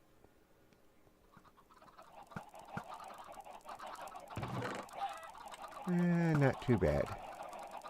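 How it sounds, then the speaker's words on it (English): Clucking and honking chickens from the video game Minecraft come in short bursts that grow louder near the end, with a person briefly talking over them. "Let's go see how the chickens are doing."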